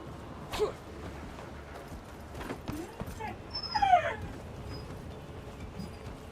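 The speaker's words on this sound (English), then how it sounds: "I think the puppy dog is ready to go outside." A puppy in a Skyrim game whimpering faintly, a few thin high whines and yips rising briefly over a quiet background with some low talk.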